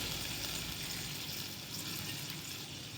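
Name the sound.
water poured from spice-washing bowl into frying fish curry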